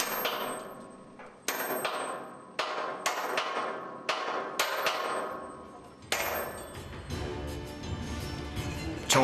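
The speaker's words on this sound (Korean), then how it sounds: "마스트를 고정하기 위해 연결 홈에 분할핀을 끼우고 바로 망치질이 시작되는데요." Hammer blows on a split pin fitted into the connecting slot of a tower crane mast ring out as sharp metallic strikes, each with a long ringing decay. The blows come in a steady series, then speed up into a denser clatter near the end.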